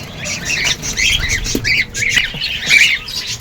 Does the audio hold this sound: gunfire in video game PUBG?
no